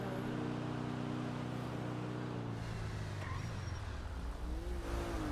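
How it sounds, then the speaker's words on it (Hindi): A car engine in a police-themed driving game, heard as a steady, continuous droning hum with slowly shifting pitch, moderately quiet, with no voices over it. "भाई जब रुक के जो आवाज करती है ना इसके इंजन, वो मुझे बहुत प्यारी लगती है"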